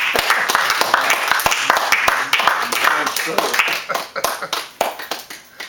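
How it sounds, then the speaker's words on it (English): Clapping from a small audience, sharp irregular claps under a speaking voice, fading toward the end. "So give him a round of applause."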